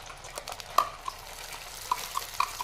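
Spice paste fries in plenty of oil in a kadhai for a drumstick curry, a close, gentle sizzle punctuated by several light metallic clinks and scrapes of a stirring spoon.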